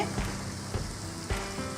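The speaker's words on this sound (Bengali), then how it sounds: "জিরে বাটা, ধনে বাটা এবং গোলমরিচ আর গরম মশলা বাটাটা দিয়ে আমি এটাকে এখন ভেজে নিচ্ছি" A paste of ground cumin, coriander, black pepper and garam masala frying in a pan, a close, continuous sizzle broken by brief stirring scrapes, with no voices.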